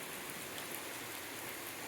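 Steady rain pours down outdoors near a group of ducks, a dense, even hiss of drops on surfaces with no clear breaks and no voices.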